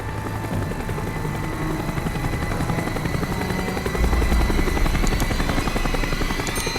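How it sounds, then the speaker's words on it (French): Helicopter rotor thumping steadily and loudly throughout, swelling slightly near the end, in a Call of Duty Black Ops campaign mission. "L'hélico revient par ici."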